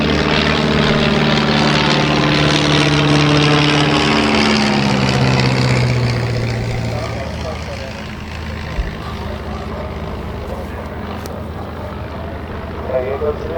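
A propeller aircraft passes low overhead at the Serpentine Victoria centenary air show, its loud droning engine sweeping down in pitch as it goes by, then fading into a quieter rumble.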